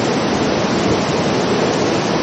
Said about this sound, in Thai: มาจีไปดูน้ำตกสวยๆดูสิ